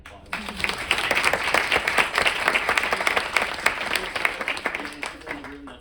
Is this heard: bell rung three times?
no